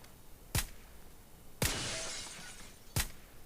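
Three sharp bursts of shattering glass in a quiet space in the video game PUBG: New State. The middle one trails off into a longer spray of falling shards.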